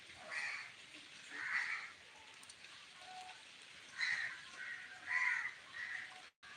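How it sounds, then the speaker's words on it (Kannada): Crows caw repeatedly at a distance under an overcast sky with light drizzle, harsh calls coming in irregular bursts over a faint, steady background hiss. "ಕಾಗೆಗಳು ಆಡ್ತಿದ್ದಾವೆ ಅಲ್ಲಿ"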